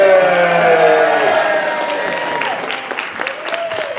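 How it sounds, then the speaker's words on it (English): Convention opening ceremony audience giving loud applause, thick clapping with some cheers that slowly thins and fades while a few voices and whoops poke through near the end. "can we get a big round of applause for these young gentlemen?"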